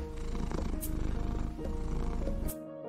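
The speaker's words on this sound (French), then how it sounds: "Il répondit en ronronnant." A cat purrs steadily and close up in a children's story recording, a continuous low rhythmic rumble that stops abruptly near the end.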